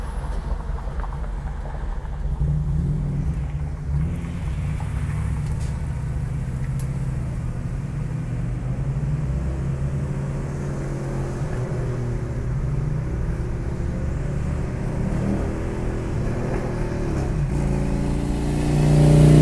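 A 1973 Ford Galaxie 500 hardtop cruises from inside the cabin, its V8 rumbling low and steady and swelling louder as it accelerates toward the end.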